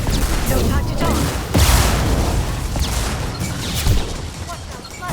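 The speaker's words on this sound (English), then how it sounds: "Watch out, flashbangs." Flashbang blasts and bursts of gunfire from a Mass Effect battle, with dense, continuous combat noise and several sharper booms standing out near the start and later in the mix.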